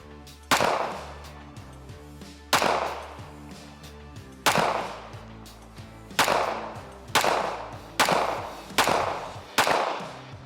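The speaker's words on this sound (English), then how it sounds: "Tried to shoot it a little faster that time" Eight loud gunshots ring out at uneven intervals at a Sig T300 smart target, each a sharp crack with a ringing decay, later shots coming faster, outdoors with no talking.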